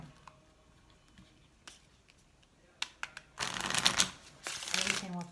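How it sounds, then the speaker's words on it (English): A few soft taps and clicks, then a sustained rustling shuffle of oracle cards up close, in two longer bursts near the end. "I do have to shuffle them"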